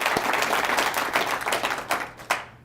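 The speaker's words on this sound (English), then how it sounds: "Let's give them a round of applause." An audience claps at a speaking event, a short burst of moderately loud applause with a few sharper individual claps standing out as it tapers off toward the end.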